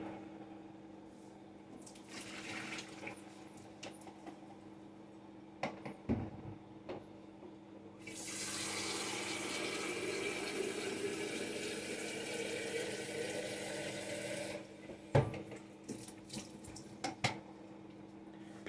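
Water runs steadily from a tap for several seconds, a broad hiss with clinks and knocks before and after.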